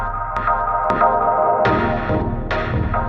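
Warm sampled chords from a Torso S-4 sampler ring out in layers, with percussive plucks and bright attacks punctuating the sustained harmony at an unhurried pace.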